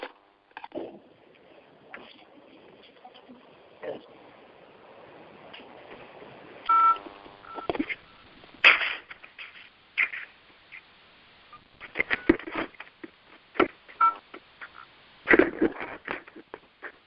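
A telephone being dialed gives out a quick run of beeping keypad tones over a quiet room, among scattered clicks and handling noises.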